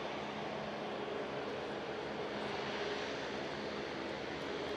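Airbus A350 XWB airliner taxiing around an airfield after its first flight: a steady, moderately loud broadband jet engine roar with a faint hum, continuous and unchanging throughout.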